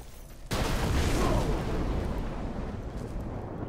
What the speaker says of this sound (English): that explosion does like 1 damage